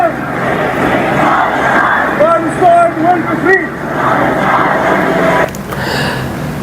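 A huge protest crowd of more than 70,000 people in Rome chants Free Palestine slogans. The roar is loud and continuous, with voices rising in waves of shouted chanting and a short drop near the end.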